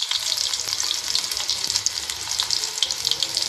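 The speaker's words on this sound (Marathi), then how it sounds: "लसूण टाकले." Garlic dropped into hot oil in a pan, giving a loud, close, continuous sizzle and crackle with steady bright hiss and small spatters throughout.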